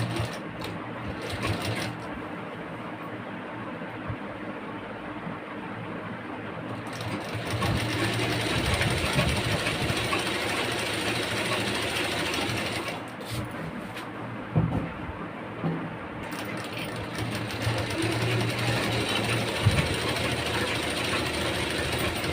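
A sewing machine stitching a folded waistband belt onto a petticoat runs steadily at close range with a rapid mechanical whir and ticking, pausing briefly and speeding up again, alone without talk.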